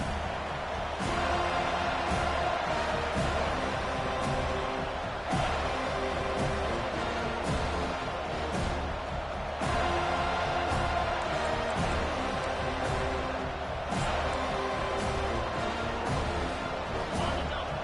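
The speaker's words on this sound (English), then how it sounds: "It's early, but this crowd is fired up. Listen to this noise here." A fired-up football stadium crowd roars early in a game, a dense, steady wall of cheering and shouting that stays loud and unbroken from start to finish.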